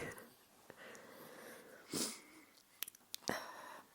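A newborn son's breathing, quiet and close, with soft wheezy snuffles and short sniffing breaths in irregular bursts over a hushed background.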